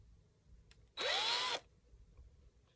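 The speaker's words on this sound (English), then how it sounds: "So now we just drill it." A handheld power drill bores a hole in a single short burst of about half a second, its motor whine rising sharply then cutting off, close and loud against quiet room noise.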